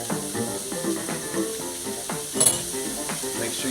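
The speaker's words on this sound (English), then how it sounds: "Put 1 tablespoon of olive oil in your hot pan. And right away, we're going to add our carrots." Carrots, onions and garlic sizzle steadily in hot olive oil in a pan, a close, continuous frying hiss with a brief louder flare near the end, with no talking.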